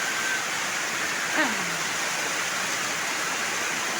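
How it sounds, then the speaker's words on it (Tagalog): Steady heavy rainfall, a thick continuous wash of hiss, with a brief gliding voice-like sound rising out of it midway before the downpour carries on alone. "Malakas yung ulan, oh."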